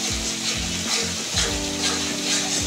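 Spices and sweet yogurt frying in oil for Bengali egg pulao, a steady close sizzle with bursts of stirring scrapes across the pan throughout.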